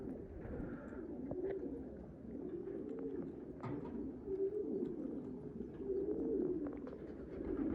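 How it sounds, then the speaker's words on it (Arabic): Pigeons coo in soft, repeated throaty rolls at a loft, several birds overlapping at moderate distance, with a few faint chirps and rustles between the calls. "هذا فرخ فطمة جديدة، هذا"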